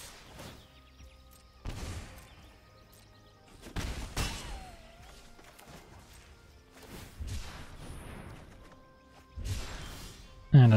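Explosion effects in a fantasy card video game, several separate bursts spaced a few seconds apart, each a broad sudden crash with a short decaying tail over quiet game music.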